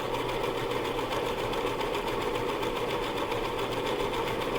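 A sewing machine runs steadily while stitching around a square, its motor humming at an even, close and fairly loud pace without pause.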